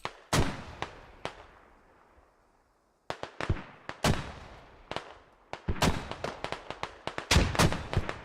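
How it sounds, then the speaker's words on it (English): Mortar rounds going off in a multiplayer war game, several sharp loud blasts with decaying tails, a brief pause, then a denser volley of overlapping booms and cracks. "the mortar's going off now as well"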